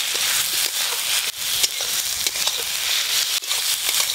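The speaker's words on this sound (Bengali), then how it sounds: "এর ওপরে বাটা মশলা দিয়ে একটু ভালো করে কষে নেব" Taro pieces fried in a pan with ground mustard, cumin, dried and green chilli and a little turmeric paste, sizzling steadily and close up, with brief scraping stirs breaking through the continuous hiss.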